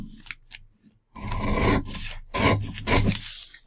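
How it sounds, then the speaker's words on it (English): Scissors snip through a paper sewing pattern along the seam allowance, making a few short crisp cuts followed by longer rasping slicing strokes, close and alone. "So I'll cut the rest of that seam allowance out."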